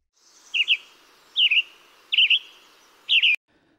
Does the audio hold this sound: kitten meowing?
no